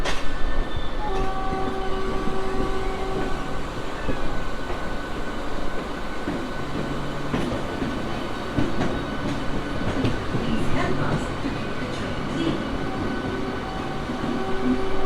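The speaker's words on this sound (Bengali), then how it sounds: "একদম ঠিক পাশের যে লাইন রয়েছে সেই লাইন দিয়ে কিন্তু চলে আসছে আমাদের ট্রেনটা।" A local train rolls in on the adjacent track beside Liluah platform on the Howrah line, with a steady clattering rumble of wheels on rails and a horn sounding in drawn-out blasts partway through.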